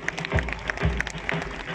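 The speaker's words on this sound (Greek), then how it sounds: "Χειροκροτήστε τους, καμαρώστε τους." Crowd applause for soldiers marching in a military parade on Lesbos, a light, scattered clapping with a few sharper claps standing out, moderately distant and fairly quiet.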